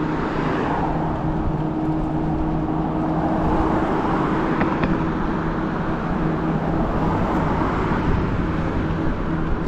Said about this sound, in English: Lots of traffic here right now